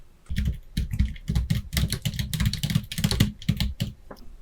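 Rapid, steady keystrokes on a computer keyboard while entering text into a word-processor document, close and continuous with no talking.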